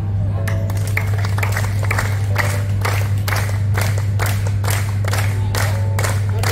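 An audience at a community exercise session claps in unison, sharp rhythmic claps repeating at a steady beat over a constant low hum and crowd noise.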